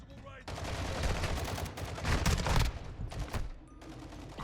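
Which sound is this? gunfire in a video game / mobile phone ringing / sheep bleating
gunfire in a video game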